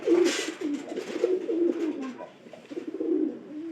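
Several pigeons cooing close by, soft throaty rolling calls overlapping in an uneven rhythm, with a brief faint voice near the start.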